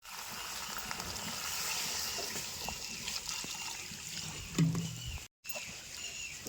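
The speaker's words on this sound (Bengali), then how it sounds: "আগে থেকে গরম জল করে রাখছিলাম সে গরম জলটা এখন দিয়ে দেবো" Hot water being poured into a pot of braised meat for a village-style meat and potato curry, giving a steady, fairly loud rush and gurgle of liquid that runs on with a brief cut near the end.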